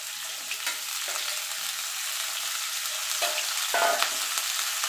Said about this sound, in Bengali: আমি এবার এই তেলে ফুলকপিগুলো ভেজে নেব